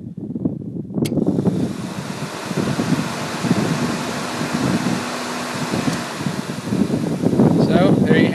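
A single-speed electric radiator fan from a Ford Taurus with a 3.8 liter engine kicks on and runs, producing a steady, loud rushing whoosh of air and motor noise, with a person talking over it.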